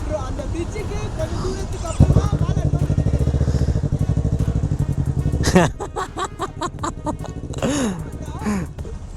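About 100 motorcycles ride off together from Chennai toward Kolli Hills, engines rumbling and revving in a steady loud drone that swells and fades as bikes pull away, with people talking over it.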